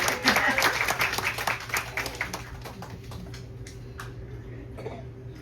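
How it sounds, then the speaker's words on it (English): Passengers on a Canyon Spirit train from Denver to Salt Lake City break into a brief round of clapping, strongest at first and then thinning to scattered claps over a steady low rumble of the moving carriage, with some talk mixed in. "Let's give her a round of applause there."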